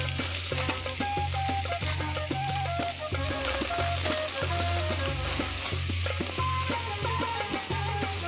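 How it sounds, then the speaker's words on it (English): Finely sliced onions fry in ghee and oil for mutton nihari, a soft, continuous sizzle that sits faintly beneath louder melodic background music. "I'm going to heat 2 tablespoons of ghee and 2 tablespoons of oil, and I'm going to fry 4 onions that I have sliced finely"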